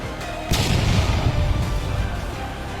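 A sudden heavy boom hits and then rolls on as a long, low rumble that fills the rest of the moment.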